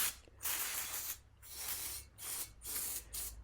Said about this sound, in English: get some degreaser, like brake cleaner, and clean up the surface where the gasket will be made.